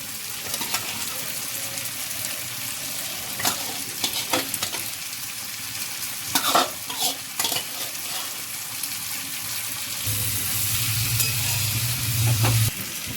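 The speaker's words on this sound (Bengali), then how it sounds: "মধ্যে এবার ভেজে রাখা মাছগুলোকে দিয়ে দিচ্ছি।" Fried fish pieces go into a pan of prawn and young jackfruit curry and are stirred, giving a steady close sizzle with scraping spoon strokes that swells louder near the end.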